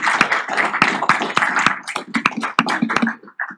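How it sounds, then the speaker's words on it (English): Scattered applause from a small audience at a documentary screening and panel discussion, a handful of distinct claps in uneven rhythm that thins out toward the end. "let's give her a big round of applause."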